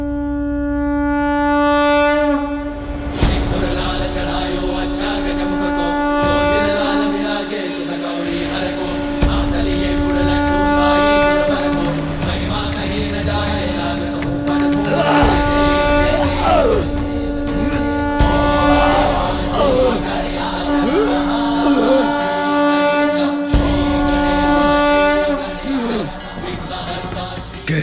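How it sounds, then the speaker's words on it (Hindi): Sustained, steady conch shell blast of Lord Narayana, loud and drawn out for almost half a minute, layered with dramatic music and swelling tones in a mythological television scene. "ये तो नारायण के शंख की ध्वनि है"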